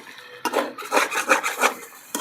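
A spoon scrapes and rubs through spices in a pot of kala bhuna on a clay stove, a close rhythmic series of gritty stirring strokes with no talking.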